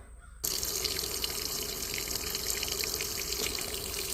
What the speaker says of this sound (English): we got the water going in it now